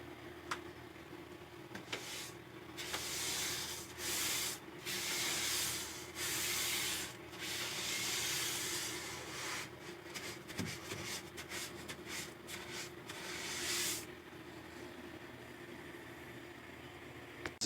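A roller spreads epoxy coating across the inside of a wooden cabinet being turned into a reptile enclosure, giving soft repeated rubbing and sticky hissing strokes in bursts with short pauses, close and fairly quiet.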